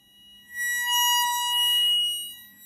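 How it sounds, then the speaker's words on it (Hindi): Coil whine from an 800 W amplifier board fed a 1 kHz sine signal: a thin, steady, pure electronic tone with bright harmonics that swells up, holds, then fades slightly, alone without talk. "ये कॉइल की आवाज़ है, ये"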